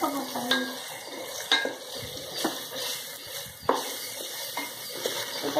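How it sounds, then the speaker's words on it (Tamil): Chicken salna for parotta is stirred in a sizzling pan, with a spoon scraping and clinking against the metal at irregular intervals over a soft background hiss. "நம்ம மிக்ஸ் பண்ணிடலாம்."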